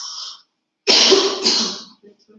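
A single harsh, loud cough bursts out close by after a brief breathy sound, then trails off.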